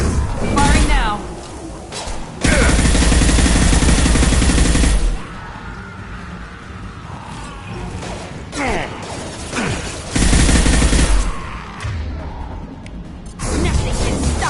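Gunfire in Mass Effect 2 comes in loud bursts separated by quieter stretches full of clanks and impacts, with a voice speaking during parts of the fight.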